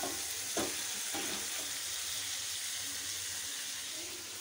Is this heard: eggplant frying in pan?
yes